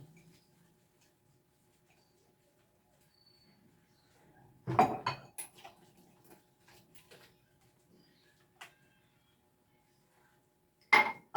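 Dishes and utensils clink and clatter in a few scattered bursts while being washed before cooking, with quiet gaps between the louder knocks.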